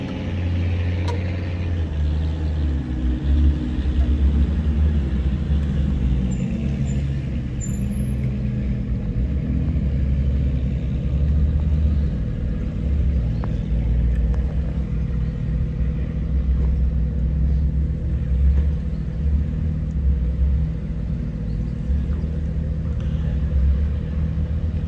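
A Jeep with the M392 V8 exhaust rumbles loudly and steadily, its deep low growl continuous throughout amid a convoy of supercars at a parking lot, with no talk over it.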